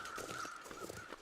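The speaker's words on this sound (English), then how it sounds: "Oh, hello, birds." Crows cawing somewhere along a woodland walk, a few harsh repeated calls, fairly faint and distant, with no talking.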